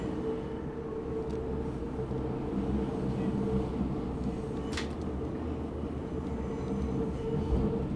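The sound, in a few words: six-car U-Bahn train passing in video game SubwaySim 2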